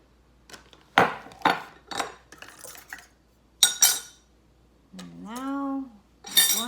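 Bibingka batter being stirred with butter and coconut milk in a bowl, with scattered clinks and scrapes of a utensil against the dish in short bursts, and a voice speaking briefly between them.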